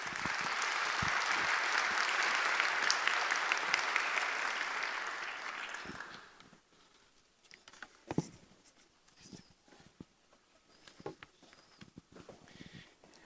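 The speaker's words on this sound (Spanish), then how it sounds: "Lo recibimos con un fuerte aplauso" Audience applause at the inauguration of a world congress on children's talent, dense clapping for about six seconds that then stops abruptly, leaving faint scattered claps and room noise.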